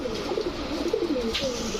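Deep-coloured Giyasulli pigeons, a male and a female, coo close by in a series of soft, rising and falling throaty calls.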